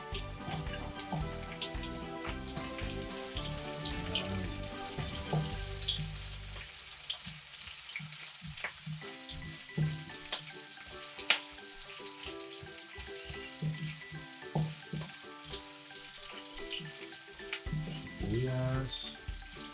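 Onions sizzle and crackle as they fry in a pan for chicken tinola, a steady hiss with scattered pops and clinks of stirring running throughout.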